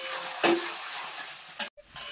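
Chicken with coriander paste and fried potatoes being stirred in a pan, giving a soft sizzle with a couple of short scraping stirs and a brief clatter near the end.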